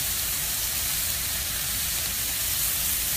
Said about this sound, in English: That is some sizzling hot bacon